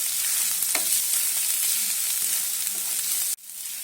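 Garlic and spices fry steadily in hot oil in a pan for vada pav filling, a dense close sizzle with faint stirring taps, cut abruptly near the end to a quieter hiss.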